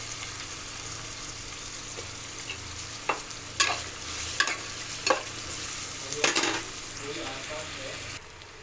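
Drumstick pieces and chopped onions fry in hot oil for a Telugu fish curry, a steady close sizzle with a few louder crackles and stirring scrapes.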